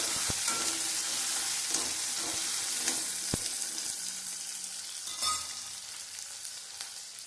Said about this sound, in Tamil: இது ரெண்டுமே நல்லா வதங்கி வரணும்